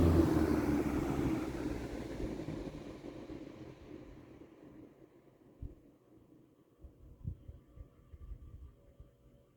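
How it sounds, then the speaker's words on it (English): A Kenmore (Mathes) 16-inch box fan, model 337, winding down from high speed, its whirring hum fading steadily over several seconds to a faint low rumble with scattered soft knocks. "So I'll spin it down from high now."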